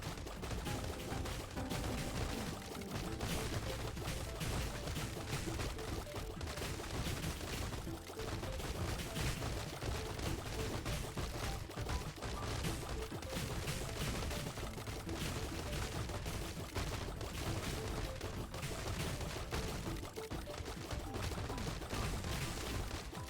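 Rapid video game gunfire from the Rocket Rats bullet heaven shooter, a dense unbroken stream of shots and bursts over backing music lasting more than twenty seconds.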